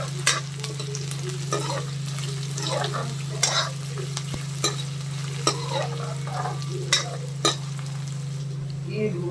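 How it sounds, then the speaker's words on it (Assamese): Onions frying in mustard oil in a pan while making dal fry, a steady sizzle with repeated sharp clinks and scrapes of a spoon stirring against the pan, close and moderately quiet. "দি তাত পিঁয়াজখিনি দি ভালদৰে অকণমান ৰঙচুৱা হোৱালৈকে এইখিনি ভাজি ল'ম।"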